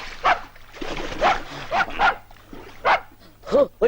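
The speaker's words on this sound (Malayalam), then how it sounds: "പട്ടിയായിരുന്നു" A dog barks in several loud, sharp bursts close by, mixed with excited human voices shouting over it.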